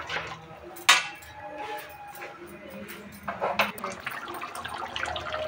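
Hot water pours into a pan of chicken curry with a splashing rush and a sharp metallic clank, set against soft kitchen clatter.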